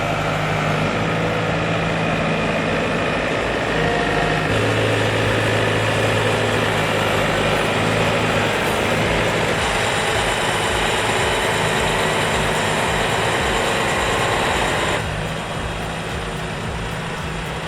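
A heavy truck hauling a massive transformer clamped onto a bright red multi-wheeled trailer, its engine droning loud and steady throughout with a deep rumble and shifting tone, and no talk.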